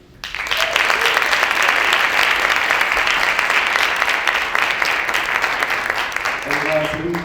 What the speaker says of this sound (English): let's give one more big round of applause to all of our CPS champions